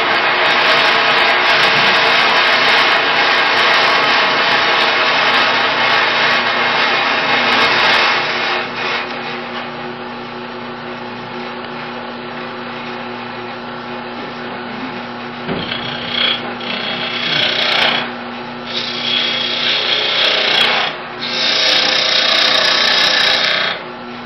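Wood on a small lathe is trued up with a cutting tool: a continuous close rasping, scraping whir that eases off in the middle, then returns in rougher surges.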